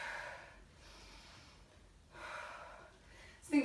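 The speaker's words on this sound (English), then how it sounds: "Breathing in and breathing out as it comes overhead." Heavy exercise breathing during a full-body kettlebell workout: two long, rushing breaths a couple of seconds apart, close and fairly soft, with a sharper burst of breath right at the end and no talking.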